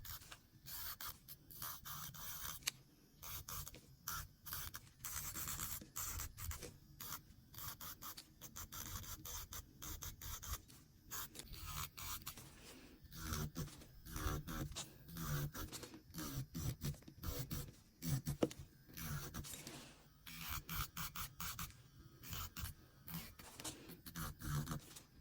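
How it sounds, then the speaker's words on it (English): Gel nails being filed with a tiny sanding band on an electric nail file during nail prep, a steady whirring buzz with continuous rubbing and scratching against the nail surface throughout, fairly close, with no talking. "I'm gonna go in with my tiny sanding band."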